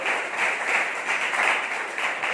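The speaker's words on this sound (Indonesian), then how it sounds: "Tepuk tangan teman-teman semua." A group of people applaud at an educational tour of a bus body-building workshop, a dense, even patter of clapping that holds steady for a couple of seconds, close and fairly loud.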